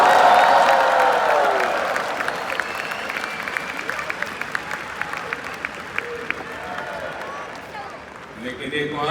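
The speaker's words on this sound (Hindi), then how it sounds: "तो ज्यादा तालियां बजानी पड़ेगी।" A large audience at a political event in New York applauds, loud at first and slowly thinning into scattered claps over several seconds, with a voice speaking again near the end.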